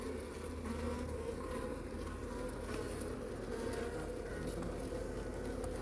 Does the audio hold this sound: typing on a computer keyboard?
no